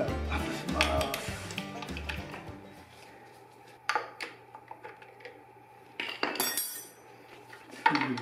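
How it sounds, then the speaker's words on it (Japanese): Metal tools clink and tap while the change pedal is taken off a Kawasaki Z1 motorcycle, with a cluster of rattling knocks at first, then sparse sharp metallic clicks over a low hum. "じゃあ、チェンジペダルを外します。"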